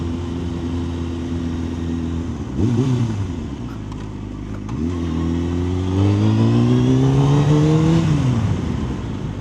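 Honda CBR 600F motorcycle engine and exhaust revving, with steady idle broken by sharp throttle blips and a long rising rev that falls away, close and loud with no talk.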